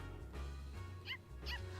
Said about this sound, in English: Oh, the little barks. Oh, it's a little puppy.